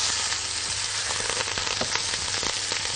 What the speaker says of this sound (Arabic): اخد تشويحة